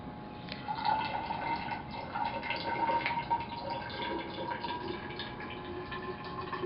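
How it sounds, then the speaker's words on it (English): Water pouring in a steady stream into an empty bottle, 100 milliliters measured out, a continuous splashing trickle with a slight rising tone as it fills. "first we're going to measure out 100 milliliters of water for each of the 2 empty bottles"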